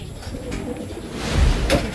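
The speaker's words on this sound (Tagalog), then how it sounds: "Ayan mga ibon natin. Papasok na lahat." Homing pigeons cooing softly against a noisy outdoor background, with a louder low coo near the end.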